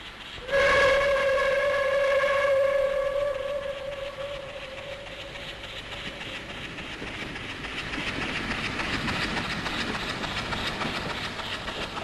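A train hauled by a Ty246 locomotive rolls along the rails with a steady rumble and clatter, a sustained horn-like tone ringing out near the start before fading into the running noise.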